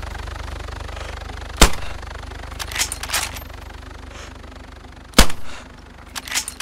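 Gunfire aimed at a helicopter in DayZ: two sharp, loud single shots about three and a half seconds apart, each followed by short rattling echoes, over a steady low hum.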